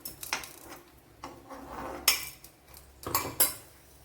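Metal utensils clink and knock against a mixer jar and pots while fried chillies are transferred into it in a Kerala kitchen, a few sharp separate clatters spread out between quiet gaps.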